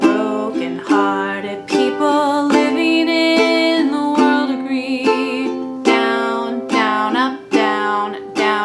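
A ukulele strums chords of a song in a bouncy down-down-up rhythm, bright and close, with chord changes every few strokes.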